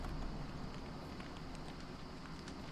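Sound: rain in video game Don't Starve Reign of Giants

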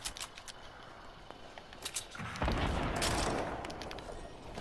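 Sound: gunfire in the video game Fortnite

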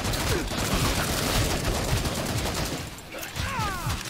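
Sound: gunfire from a gun in the video game Killing Floor 2

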